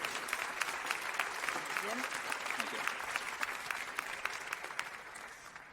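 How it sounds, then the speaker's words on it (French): An audience claps steadily at an award ceremony for industry prizes. The applause is moderate and even, with individual claps audible and no voices over it. "On peut les applaudir."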